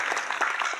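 An audience claps along at a Marathi kirtan, a brief burst of dense, fairly rhythmic handclaps heard close and without speech.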